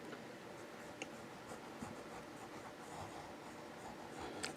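A Fountain Pen Revolution Tanoshii fountain pen nib scratches softly across paper in a steady run of quiet, close strokes, with a few small ticks along the way.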